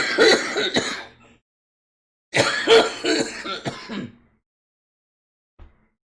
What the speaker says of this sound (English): We can't get rid of this cough for shit.